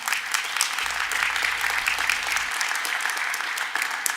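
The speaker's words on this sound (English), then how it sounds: "Give them another round of applause." Sustained applause from the audience at Flint's State of the City address, an even, dense patter of many hands clapping together for several seconds.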